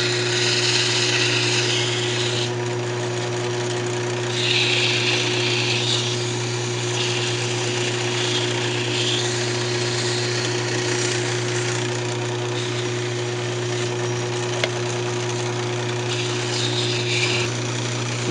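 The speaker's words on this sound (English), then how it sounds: "now we're just going to go ahead and sand it up and then part it off" A wooden rattle spinning on a wood lathe is sanded, giving a loud steady motor hum with a constant whine and a rough abrasive hiss that swells now and then as the paper presses on, no voices.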